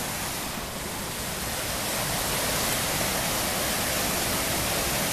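Rainwater rushing through a nearly full pipe after heavy rain in Răzeni, a loud, steady broadband roar that stays constant throughout with no voices.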